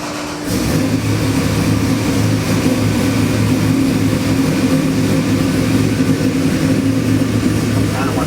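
LS7 V8 engine swapped into a 1970 Oldsmobile Cutlass starts up and runs at a loud, steady idle, a deep continuous rumble close by without a pause.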